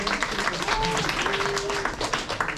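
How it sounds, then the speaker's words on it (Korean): Audience applause at an environmental concert held with high school students in Hamyang, a dense, steady patter of many hands that fills the whole stretch, with brief sustained tones sounding faintly over it. "트레이닝 싸움에서 승리할 수 있는 법을 알려주신 이정호 선생님께 다시 한번 큰 박수를"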